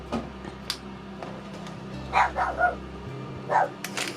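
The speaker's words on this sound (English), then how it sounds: "Excuse my dog, he can hear someone outside." A dog indoors lets out a few short barks and yips at someone outside, scattered irregularly and moderately near over a low steady hum.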